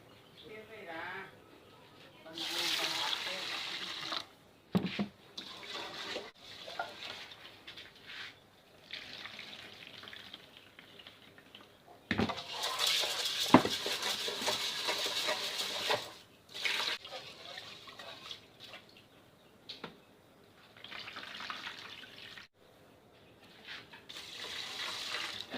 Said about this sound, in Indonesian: Kita cuci dulu berasnya ya teman-teman.